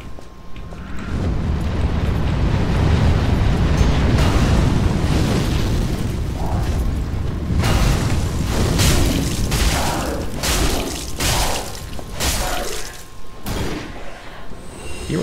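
Pyromancy fire spells exploding in a video game battle, a run of deep, rumbling booms and crackling bursts, loud and close, repeating in irregular clusters with no talk.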